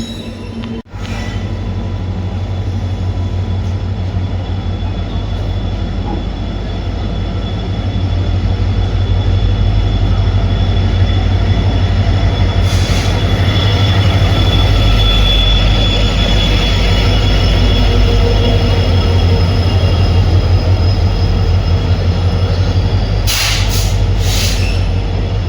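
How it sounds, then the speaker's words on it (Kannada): The Yesvantpur-Hubballi Jan Shatabdi Express rolls into a station platform, a loud continuous low rumble of wheels and coaches building and holding steady, with a few sharp clanks and squeals, and no talking. "Yeshwanthpur Hubballi Jan Shatabdi express platform number 3ಗೆ entry ಆಗ್ತಿದೆ."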